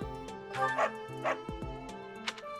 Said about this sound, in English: I have much to give you, doggo.